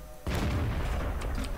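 Tank cannon shot in World of Tanks, a sudden deep boom that rolls into a sustained loud rumble, heard alone and close.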